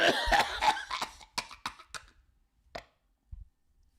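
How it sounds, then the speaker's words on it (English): A cluster of coughs up close, a few sharp bursts early, then isolated quieter coughs trailing off with pauses between. "I just coughed and burped."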